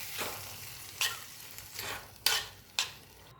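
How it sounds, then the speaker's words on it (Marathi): A spoon scrapes and stirs a coconut and sugar mixture in a pan, making about five quiet, separate scraping strokes over faint background hiss. "आता हे सर्व व्यवस्थित हलवून घ्यायचं आहे एकत्र करून घ्यायचं आहे"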